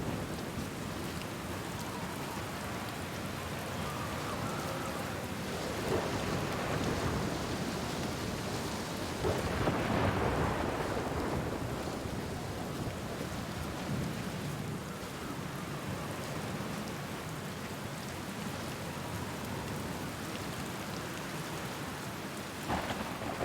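Steady rain with rumbling thunder in the Outer Wilds video game, a continuous wash of rainfall that swells with a longer thunder roll near the middle, no talking.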